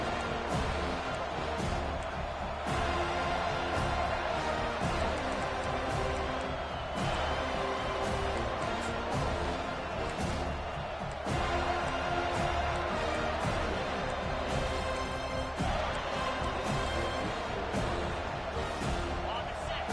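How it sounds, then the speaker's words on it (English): A college football stadium crowd on third down for Mizzou, a dense, unbroken roar of cheering that swells and stays loud throughout, with a voice faintly over the din. "this crowd is tearing the lid off this place"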